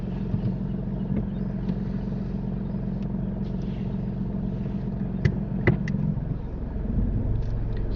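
A learner driver's car moves off during a driving lesson, a steady low engine rumble heard from inside the cabin with a few small clicks and knocks, no talk.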